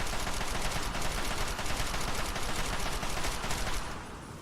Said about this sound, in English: the long assault rifle in action right there